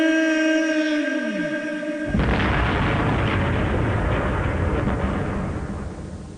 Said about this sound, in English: It certainly was a big bang.